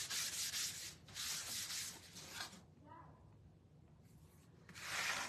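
Gator sander working on wood, making bursts of harsh, hissing abrasive scratching in several long strokes separated by brief pauses, close and steady.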